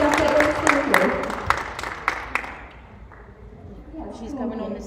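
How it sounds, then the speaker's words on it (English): Applause from an event audience for a doctor being welcomed to the stage, dense clapping at first that thins and fades midway, with a faint voice coming in near the end. "So give her a warm applause."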